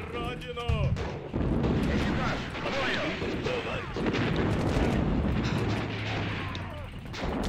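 Tank cannon fire and battlefield explosions in the WWII strategy game Sudden Strike form a dense, continuous roar of booms and gunfire, with a voice talking over the din at the start.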